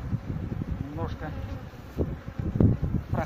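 Honey bees buzz around frames being shifted in a hive during a late-June honey harvest, a steady close insect drone with a slightly louder swell near the end, under brief talk.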